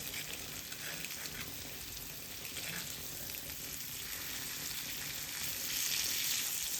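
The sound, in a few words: pomfret fish frying in a pan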